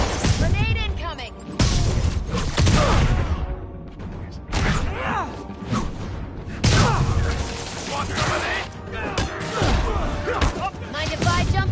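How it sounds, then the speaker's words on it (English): Explosions and gunfire in the Marvel's Spider-Man game, a dense chaotic mix of booms, crashes and shattering with sweeping whooshes. Voices shout over the top throughout. "Grenade incoming!"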